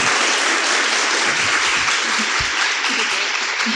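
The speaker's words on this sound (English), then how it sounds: "Can we get a round of applause for this amazing woman?" An audience gives a sustained round of applause in a room, dense steady clapping from many hands, loud and even throughout with no pauses.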